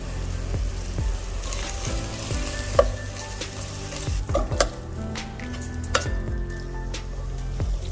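Prawn masala curry cooking in a pan with red chili powder and turmeric, a steady sizzle and fry under repeated clinks and scrapes of a spoon stirring against the pan, with no talk.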